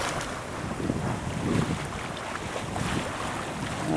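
A sailboat moving at about five knots in light wind off Sidney Spit, with steady wind buffeting the microphone and a soft wash of water along the hull, continuous and even without any voices.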